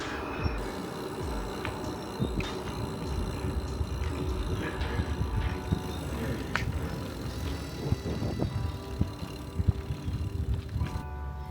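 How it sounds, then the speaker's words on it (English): A bicycle is wheeled into place, parked and secured with a wheel lock outdoors, giving scattered metallic clicks, rattles and clunks over a steady hum of passing traffic. "Let me find a place to park my bike"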